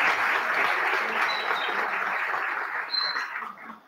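Audience at the EMIP 2023 opening ceremony breaks into sustained, dense applause, a steady wash of many hands clapping together that holds for several seconds before tapering off at the end.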